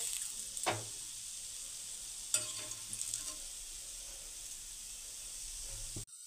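Cabbage cutlets frying under a lid in a covered pan, a soft, even sizzle and hiss held at low level throughout, broken by a couple of brief clinks, ending abruptly.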